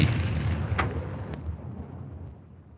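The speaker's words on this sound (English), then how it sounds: "You fire a torpedo at C2. It hits." A torpedo-hit explosion from a battleship video game: a loud, deep rumbling boom that starts at full strength, carries a couple of sharp cracks, and slowly fades over a few seconds, with no talk.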